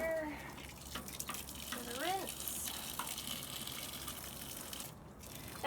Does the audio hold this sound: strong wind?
no